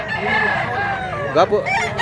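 A rooster crows loudly and close, one drawn-out call followed by a few short clucking notes, with faint background noise.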